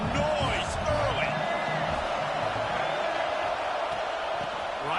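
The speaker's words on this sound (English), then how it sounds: "This crowd bringing the energy and noise early." Stadium crowd noise from a college football video game, a steady loud roar with whoops and cheers rising and falling throughout, no talk over it.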